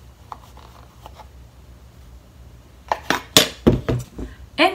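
Utensils clink and scrape in a pan while beef and bamboo shoot sauté dusted with potato starch is mixed, quiet at first, then several sharp, close clatters.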